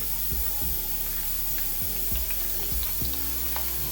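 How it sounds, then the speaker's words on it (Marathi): Hissing sizzle of papad frying in hot oil, with repeated low mechanical clicks and scraping knocks throughout. "तेल गरम झालेलं आहे पापड तळून घेऊ"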